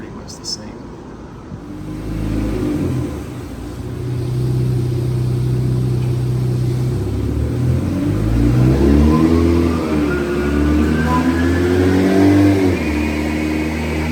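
Infiniti Q50 running a dyno pull on E30 fuel blend, the engine revving up steadily and loudly with rising pitch and gear-like steps, continuous and close.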